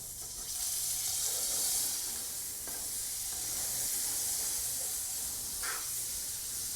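Pancake batter sizzles on a hot griddle as a soft, steady hiss that runs throughout, with faint clinks of utensils and no talking.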